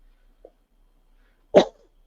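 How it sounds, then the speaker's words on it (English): A single short, sharp cough up close after a brief quiet moment, with a tiny faint sound just before it. "excuse my cough"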